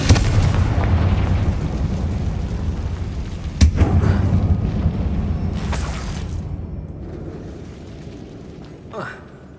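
Confringo spell explosion in Hogwarts Legacy, a loud booming burst with rumble that fades over several seconds, a second crack and lighter effects following, inside a mine.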